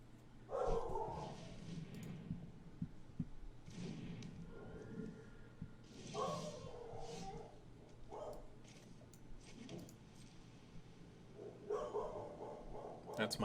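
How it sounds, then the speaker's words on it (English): A pet dog barks in a few short bursts in the background of a home room, mixed with muffled thumps and someone talking over it. "That's my dog."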